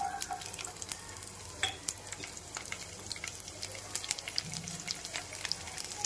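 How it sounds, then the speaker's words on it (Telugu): Mustard and cumin seeds crackle and pop in hot tempering oil, with quick bright snaps scattered over a soft, continuous sizzle, close and fairly quiet, no talking. "కొంచెం చిటిపట అన్నాక ఫస్ట్ ఇవి వేసేసుకుందాం."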